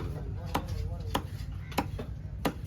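A knife chopping through a huge cobia fish at a Kasimedu fish-cutting stall lands in sharp, heavy thuds, about five evenly spaced blows, close and distinct, with faint voices and background bustle behind them.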